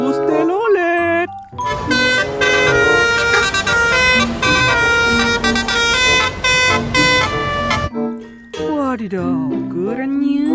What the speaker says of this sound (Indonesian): yang ini bus telolet.